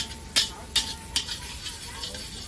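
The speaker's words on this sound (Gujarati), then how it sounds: "હવે એને ધીરે પ્રોપર તરીકે સાંકળી લઈશું અને મિક્સ કરી દઈશું પ્રોપર તરીકે" A spoon scrapes and stirs ingredients frying for moong pulao in a pan, giving three distinct clanks followed by softer scraping over a steady sizzle.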